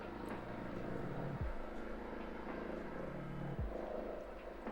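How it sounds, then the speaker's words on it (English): A low, steady throbbing drone of a helicopter carries through from outside, continuous and moderately loud, with no voices. "There's a helicopter outside my flat"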